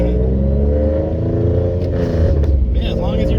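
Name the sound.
turbocharged 3.7 V6 Mustang engine revving on a dyno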